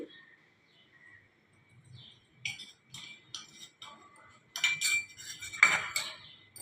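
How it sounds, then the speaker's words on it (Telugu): A spoon stirs custard powder into boiling milk in a pot, giving light scraping and clinking strokes that start faint and grow louder and more frequent, with sharp metallic taps toward the end. "కొంచెంసేపు అలా కలుపుతూ ఉండాలండి"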